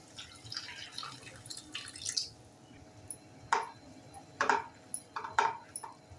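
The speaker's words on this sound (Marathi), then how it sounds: "आता थोडंसं पाणी घालूया" Water is poured into egg masala in a home-style pan, giving soft splashes and a few distinct drips and splats against a quiet kitchen background.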